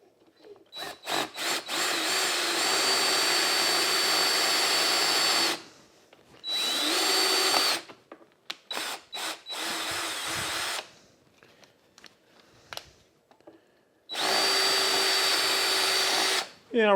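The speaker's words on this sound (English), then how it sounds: "that drill bit's a little bit brittle" A power drill bores into a screw on an XR250R motorcycle, whining in several bursts, some long and steady, others short stop-start pulses, with brief quiet gaps between runs.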